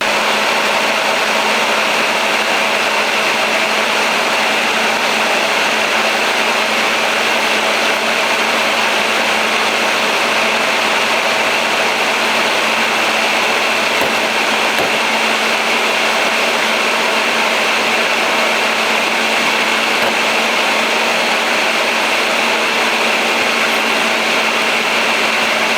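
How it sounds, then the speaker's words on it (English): Electric grinder grinding homemade soil amendments, a loud constant motor drone that holds steady from start to finish with no pauses and no talk. "So that's how we grind things up."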